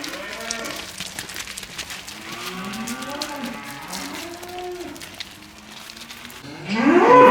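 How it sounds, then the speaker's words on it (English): Heifers mooing inside a cattle shed on an Irish farm, several overlapping drawn-out calls from close and farther animals, with a burst of louder clatter at the end. "So all these heifers here in this shed,"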